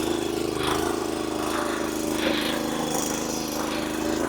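A 7 or 8 HP power tiller engine chugs steadily in second gear while breaking dry soil and stubble, a loud, continuous close-up drone with a low pulsing beat and no pauses.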